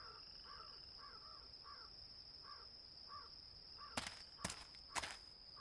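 Crows caw in a park setting in the game Dead Synchronicity, several rough calls repeating at a moderate distance over a steady high insect-like drone, then three sharp clacks near the end.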